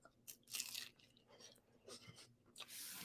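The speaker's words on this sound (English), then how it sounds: "sorry about the chewing" Close, quiet chewing with moist, crunchy bites coming in irregular bursts, some sharper crackles between softer squishy mouth sounds, with no talking.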